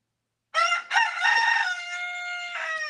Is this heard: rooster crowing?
yes